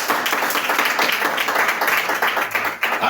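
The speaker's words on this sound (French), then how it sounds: "Acclamez pour l'interprète." A church congregation applauding an interpreter during a sermon, a steady wash of many hands clapping together, close and fairly loud for a few seconds.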